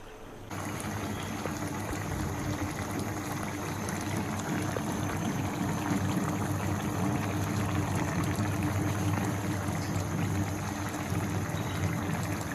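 Hilsa fish head and malabar spinach curry simmers steadily in a pot, a continuous close bubbling and boiling sound that holds at an even level for the whole stretch with no talking.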